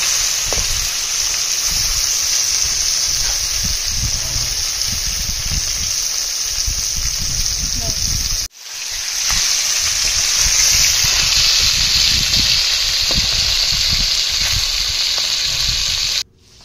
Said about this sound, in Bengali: তেলটা গরম হয়ে গেলে এবার মাছগুলোকে তেলের মধ্যে ছেড়ে দিয়েছি